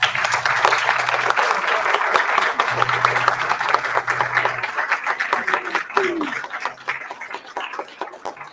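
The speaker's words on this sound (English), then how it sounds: "standing ovation with a huge round of applause" Audience at a workshop ceremony gives a standing ovation, with dense, continuous applause from a large indoor crowd and a few brief voices and a low hum underneath.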